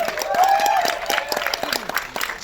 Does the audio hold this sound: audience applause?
yes